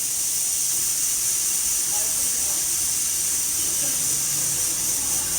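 Steady, loud hiss of steam from dal cooking in an OPOS pressure cooker, continuous and unbroken throughout with a faint rumble underneath.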